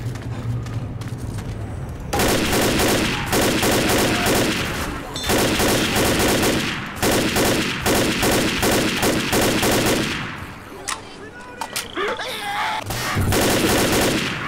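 Gunfire from a hunting rifle and other weapons in a video game battle rattles out in long, loud, rapid bursts separated by short lulls, dense and close, with no voices audible.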